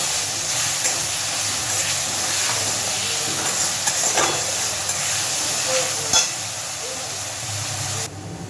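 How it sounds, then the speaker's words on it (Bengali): Onion and green chili frying in a pan, a steady sizzling hiss that runs throughout with a few faint clinks of stirring, close and even in level. "পেঁয়াজটা আমার খুব সুন্দর করে ভাজা হয়ে গেছে"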